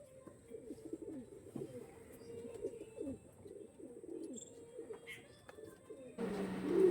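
Pigeons for sale, including flying breeds, coo steadily in a close, continuous chorus of low throaty calls, growing louder and denser near the end.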